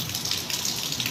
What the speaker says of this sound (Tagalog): makikita natin dito na tumatagas ang tubig galing sa